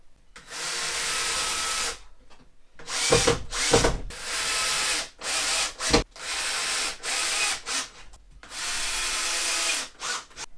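Screws being driven into the wooden platform of an RV bed lift, a close power drill whirring in repeated bursts of a second or two with brief gaps, some dull knocks between runs.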